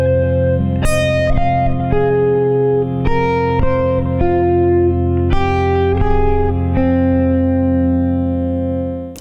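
Electric guitar solo line moving in linear descending leaps along a single string, distinct sustained notes picked one after another with effects-laden tone and reverb, loud and steady with no talking.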